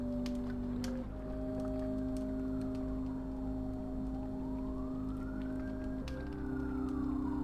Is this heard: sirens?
yes